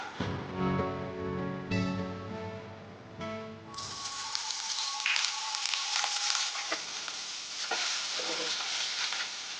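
Food sizzles steadily in a pan on the stove while egg biryani is cooked. The frying starts a few seconds in, after an opening of other tonal sound, then stays as a continuous bright crackle to the end.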